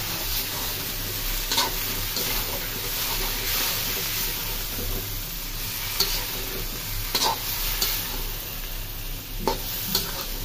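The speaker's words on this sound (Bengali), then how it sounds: "সব সবজি একসাথে দিয়ে নিই।" Mixed vegetables frying with spices in a pan for a bean, tomato and potato curry, giving a steady close sizzle with repeated scraping stirs, no voices.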